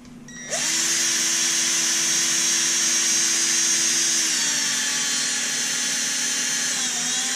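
Power drill boring 1/8 inch holes in a control box over a trash can, a loud steady whine that starts after a brief pause and runs continuously, easing slightly toward the end, with no talk.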